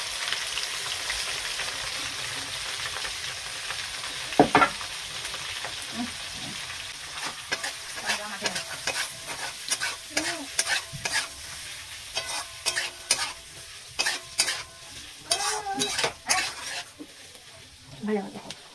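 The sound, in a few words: onions and vegetables frying and being stirred in a pan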